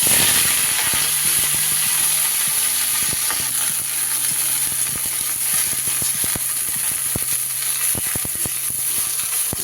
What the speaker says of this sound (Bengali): ব্রোকলিগুলোকে একটু তেলে নাড়াচাড়া করে নেব। তেল কিন্তু বেশ গরম হয়ে গেছে।